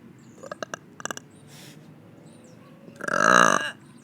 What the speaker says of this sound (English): Yep, and sometimes you burp.